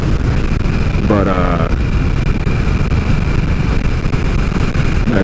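A Harley-Davidson Nightster motorcycle engine lugs along at about 2,000 RPM, a steady loud low rumble with wind noise throughout, joined briefly by a faint tonal whine near the start.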